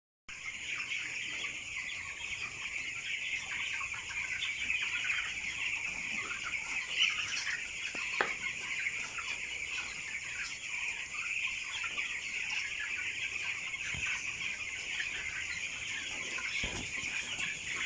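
Eighteen-day-old broiler chickens on a farm cluck and murmur continuously as a flock, a soft, fairly distant chorus of overlapping calls with a few sharper clucks standing out.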